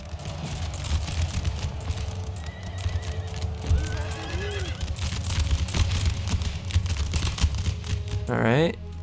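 Horses in an Empire: Total War battle whinny, and their hooves clop steadily under a dense wash of battlefield noise. One long, loud neigh rises near the end.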